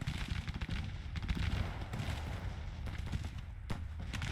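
Gunfire from troops in the Grand Tactician video game, a Civil War-era battle near Memphis: scattered rifle shots and crackling volleys at moderate distance, irregular and fairly faint.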